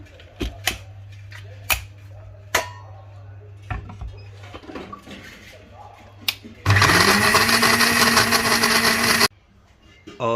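A kitchen blender grinds amla murabba in a steady loud whir of about two and a half seconds, following scattered clinks and handling noises.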